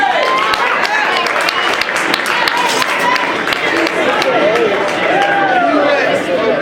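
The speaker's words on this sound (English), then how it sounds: "Give me a round of applause for Ashton." A crowd claps and cheers for a teenage powerlifter's record squat attempt on the platform at a raw national meet, with loud, dense, steady applause throughout and voices calling out over it.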